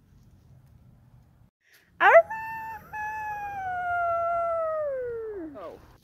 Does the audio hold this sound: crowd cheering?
no